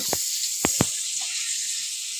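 Potatoes frying with salt and turmeric in a pan over a village clay hearth, a steady bright sizzling hiss throughout with a few short clatters near the start.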